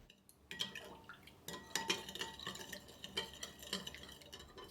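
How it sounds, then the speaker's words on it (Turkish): A spoon stirs granulated sugar into freshly squeezed orange juice in a glass, giving faint, close clinks and scrapes in an uneven rhythm against quiet kitchen background. "1 su bardağı sıktığım portakal suyuna 2 yemek kaşığı toz şekeri ekledim ve şeker eriyinceye kadar karıştırıyorum"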